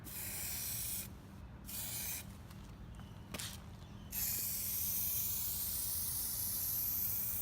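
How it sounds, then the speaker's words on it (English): Aerosol can spraying rust-proof clear coat onto plastic car sidesteps outdoors in direct sunlight, a steady loud hiss in long bursts with brief pauses between strokes, no talking. "just applying the Rust-Proof Clear just in long strokes, slightly overlapping it"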